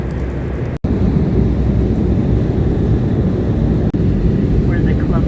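Steady, loud broadband airplane engine roar inside a cabin, continuous for the whole stretch with two brief dropouts near the start and middle.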